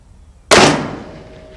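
A single loud rifle shot fired at a long-distance target, a sharp crack followed by a long, fading echo rolling away across open ground.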